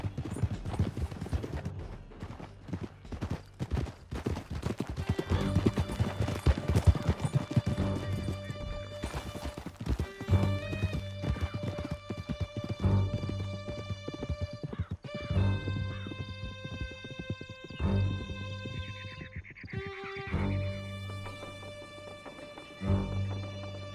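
Several horses gallop hard through a canyon in Red Dead Redemption 2, their hooves pounding in a steady, loud clatter for the whole stretch, with whinnies, crashes and a sustained musical score layered over the chase.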